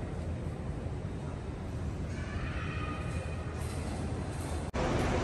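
Inside a high-speed train running at 300 km/h between Jeddah and Medina in Saudi Arabia, a steady loud rumble and rush of motion carries a faint squealing tone and a brief dip near the end.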